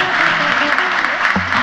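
Applause from an audience at a traditional carnival in Maspalomas, a dense, steady wash of clapping that fills the whole stretch, with a brief voice cutting in near the end.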